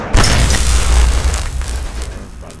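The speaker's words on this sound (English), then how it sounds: "Oh, activate pulse explosion." A pulse explosion detonates in Fallout 3 with a loud, heavy boom that rolls on as a dense low rumble for a couple of seconds, standing alone.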